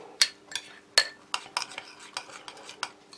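A spoon stirs a French army emergency ration mix of sugar and flour into a sweetish porridge, making close, irregular scraping and clinking strokes against the container with no talking.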